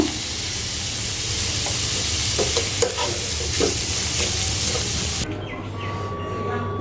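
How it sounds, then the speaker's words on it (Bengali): Onions and garlic sizzle and crackle while frying in a pan, a steady busy hiss with scraping stir sounds, ending abruptly into a quieter room tone. "এই যে পেঁয়াজ আর রসুনগুলো ভাজে নেব সুন্দর করে"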